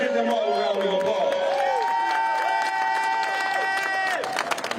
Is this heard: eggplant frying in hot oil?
no